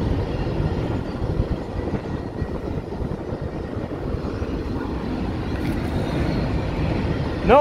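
A long freight train rumbles across a bridge in Ogallala, Nebraska, a steady close roar of wheels and cars lasting the whole span, with faint bird calls near the end.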